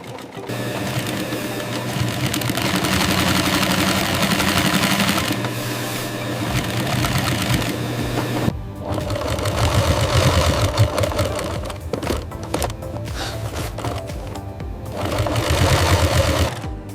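An industrial sewing machine stitches exotic leopard leather footwear in a leather factory, with a loud, close mechanical rattle in long runs, a brief pause, then another burst of rapid stitching, alone without talk.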